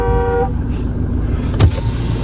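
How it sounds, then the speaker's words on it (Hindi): A car horn gives a short honk in a street where work is going on nearby, heard over the steady hum of the idling car from inside the cabin. "हॉर्न दे रहा हूँ"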